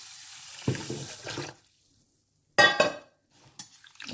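Urad dal and kodo millet rice being washed by hand in water, with splashing and sloshing in two bursts separated by a quiet pause, then faint trickles.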